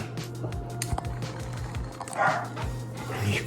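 An excited female dog barking in the background before a walk, sending out a series of muffled, repeated yips and barks over a low steady household hum.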